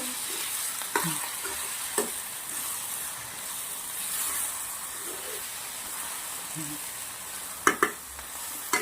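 Pea curry with fresh coriander being stirred in a pan, giving a soft steady sizzle with occasional scraping clicks of the spoon, heard close and alone.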